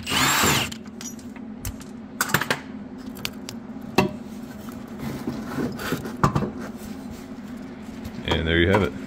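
Power tool removing bolts from a Honda Integra trailing arm, with short bursts of impact rattling and clanks of metal, close and loud, ending in a brief whirring spin.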